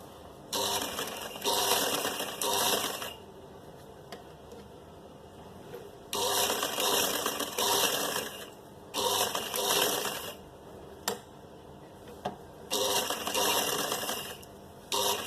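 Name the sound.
sewing machine stitching a kameez suit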